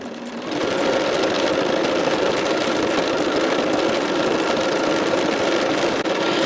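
A sewing machine stitches continuously at steady speed, a close, loud, even mechanical whir and rapid needle rattle that starts after a brief moment and runs without pause.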